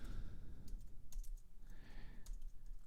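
Keys clack on a computer keyboard as code is typed, a quiet, irregular run of close taps and short bursts with no talking.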